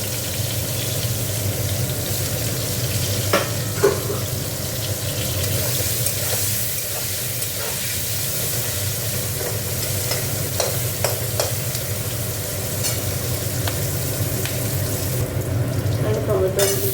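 Chopped onion fries in hot oil for a tangra fish curry, making a loud, continuous close-up sizzle that runs throughout, with occasional clicks and scrapes of stirring.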